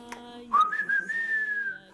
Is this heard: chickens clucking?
no